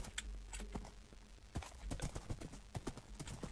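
Horse hooves clip-clop in Minecraft, a string of sharp, irregular clacks that come in bursts and speed up toward the end, fairly close, with no talk.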